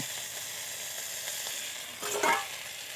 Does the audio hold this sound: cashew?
yes